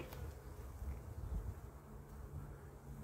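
A low, continuous buzz of many honeybees on a hive frame hums close by, steady and dense, with faint rustling and a soft tick near the start.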